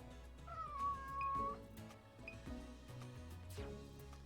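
A pet cat gives a faint, drawn-out meow followed by a couple of short chirps, heard quietly in a room alongside soft background music from Pokémon Snap.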